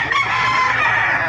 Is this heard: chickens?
yes